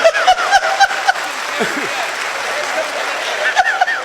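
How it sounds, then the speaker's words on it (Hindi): Audience applause breaks out at a live Hindi storytelling or comedy show, a broad crowd clapping wash that stays steady and fairly loud throughout, with a few brief sharper accents near the start and end. "भैया ताली गूंजनी चाहिए, कमाल की बात है।"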